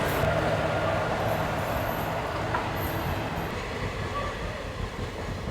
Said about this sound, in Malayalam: ഓക്കെ, സോ ഇതാണ് ട്രെയിൻ